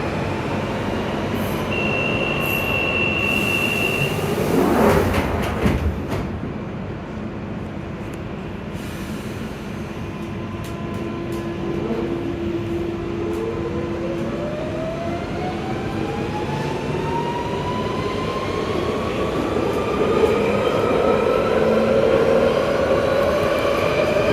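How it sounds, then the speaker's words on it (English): A London Underground Central Line train rumbles steadily along the track at Newbury Park, with a brief squeal of wheels and a rising whine of the motors as it picks up speed. "This is a Central Line train to Hainault via Newbury Park."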